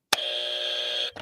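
A buzzer sound effect gives one sustained electronic tone, loud and steady for about a second, opening with a sharp click and ending with a short trailing blip.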